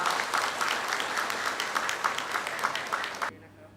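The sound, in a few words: audience applause welcoming guests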